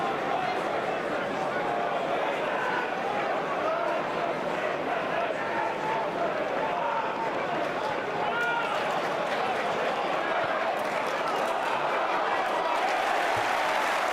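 Steady applause and crowd noise fill the stadium at a Blackburn Rovers versus Swansea City Championship football match, a dense continuous roar of clapping throughout.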